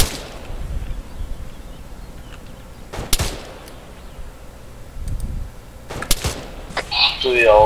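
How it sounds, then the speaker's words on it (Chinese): Gunfire in the video game Arma 3: a few scattered sharp shots crack at irregular intervals, some distant, over a quiet background with brief noises near the end. "注意哦，我这附近好听到枪声了"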